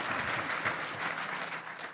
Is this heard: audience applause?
yes